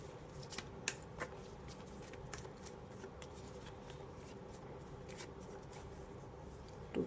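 Tarot cards are shuffled and drawn at close range, giving a series of soft, quick riffling and flicking clicks alone in a quiet room.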